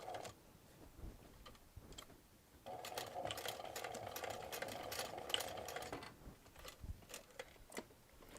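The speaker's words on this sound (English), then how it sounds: "So I've extended my stitch length another click on my machine, and I'm going to stitch across here about 1/4 of an inch from the edge." A sewing machine stitches across a crossbody bag about a quarter inch from the edge, a steady close mechanical whir for a few seconds, framed by quiet handling noises before and after.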